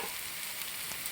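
Ground spices, meat masala, garam masala and black pepper sizzle in a pan for a Kerala-style beef curry, giving a brief, steady, close hiss of frying with no voices.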